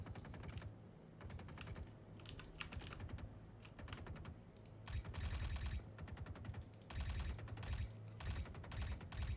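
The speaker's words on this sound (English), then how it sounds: "Just hearing a lot of gunfire." Bursts of rapid gunfire in the video game Star Citizen, far-off and fairly quiet, coming in repeated clusters with no talk.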